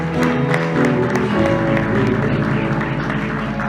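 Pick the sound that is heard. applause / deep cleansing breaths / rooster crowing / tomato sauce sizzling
applause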